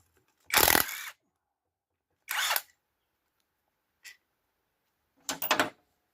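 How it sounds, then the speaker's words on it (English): Short whirring bursts of a power tool back out Allen key bolts on a damaged Peugeot 505 five-speed transmission, four brief runs with quiet gaps, the last one stuttering. "Oh, I forgot to take the Allen key bolts out."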